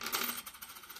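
A few coins clink and settle on a surface in a quick, faint metallic patter, heard alone.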